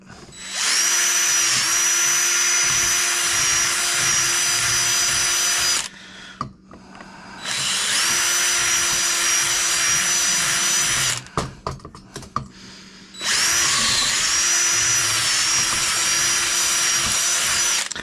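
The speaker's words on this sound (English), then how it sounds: "So we're going to drill all these out." Loud power drill whining in three long bursts while drilling out holes on a mower deck spindle connection, separated by short pauses with clicks and handling noises, very close.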